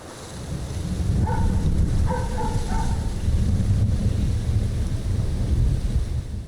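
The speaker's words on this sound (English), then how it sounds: "You can hear rumbles of thunder in Chloe's backyard, signifying the impending storm." Low rolling thunder rumbles steadily through a backyard in the game Life is Strange as a storm approaches, a broad continuous roar with faint tonal game sounds drifting over it and no talking.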